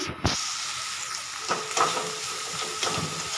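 Onions with green chillies and cumin sautéing in a pan, a soft continuous sizzle and hiss with occasional stirring scrapes, close and steady with no talk.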